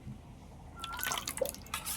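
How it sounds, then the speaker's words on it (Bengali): A small splash of water poured into beaten eggs in a bowl, a short trickle with dripping, close and fairly soft. "অল্প করে একটু জল দিয়ে দেবো ওই ডিমের মধ্যে"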